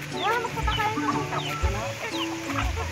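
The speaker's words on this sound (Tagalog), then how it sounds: "Ang dami ng manok, oh." A flock of chickens on a dragon fruit farm clucking steadily nearby, overlapping calls in a busy, continuous chorus.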